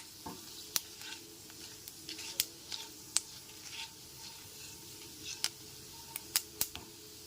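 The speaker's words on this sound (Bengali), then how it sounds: "শুকনো লঙ্কার তেজপাতাটা হালকা করে ভেজে নেওয়ার পর ফোড়নে দিয়ে দেব ওয়ান টিস্পুন মৌরি গ্যাসের ফ্লেমটা একদম লোতে রেখে ফোড়নটা হালকা করে ভেজে নিতে হবে" A tempering of dry red chilli, bay leaf and fennel seeds fries gently in oil over a very low flame, giving a faint soft sizzle with scattered light ticks and clicks of stirring.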